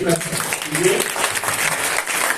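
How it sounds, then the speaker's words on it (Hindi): An audience claps at an International Women's Day ceremony honouring women, with steady, fairly loud applause running throughout and voices mixed in underneath. "आप थोड़ा हाथों को तकलीफ देते हुए ताली बजाइए"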